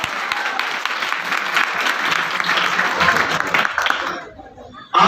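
An audience claps steadily in a dense, loud burst of applause that holds for about four seconds and then cuts off abruptly.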